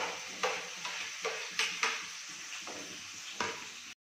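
Onion tipped into a hot pan with cumin and garlic, then fried and stirred: a steady, close sizzle with repeated scraping strokes of a spatula against the pan every half second or so.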